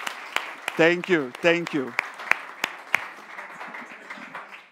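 Audience applause at the 2023 TCL Europe product launch, scattered claps fading out while someone speaks over the clapping.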